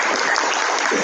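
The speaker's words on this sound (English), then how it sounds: "let's go ahead and give the panel a round of applause." Audience applause for a panel at an open house event: a dense, steady wash of clapping filling the whole moment, fairly loud and continuous with no talk over it.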